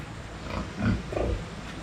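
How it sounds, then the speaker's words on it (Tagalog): Pigs grunt low and short while being fed in a rural pen in the Philippines, two or three close snorts over a steady background hiss. "magpakain lang tayo ng baboy guys"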